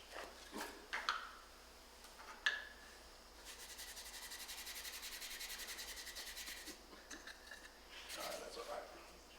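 An eraser rubs slates clean in quick, rhythmic back-and-forth strokes for a few seconds, faint and close, with soft handling knocks before and after.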